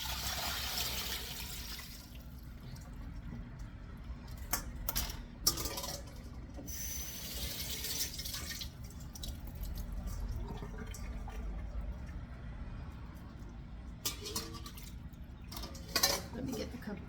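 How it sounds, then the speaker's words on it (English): Cold water sloshing and splashing in a bowl of green beans, with occasional clinks and rubbing sounds of handling them, fairly close. "I've got them in the cold water right now."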